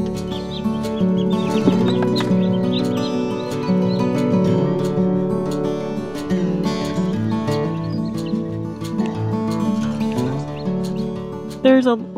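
Mother hen in a farm coop with a brood of chicks gathered under her, clucking steadily and close up, with layered chick peeping, while people talk throughout.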